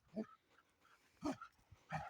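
A dog gives three short barks with soft whimpering between them, close by, outdoors during a day of chopping firewood.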